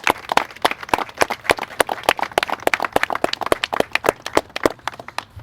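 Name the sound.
audience applause for police officers at press conference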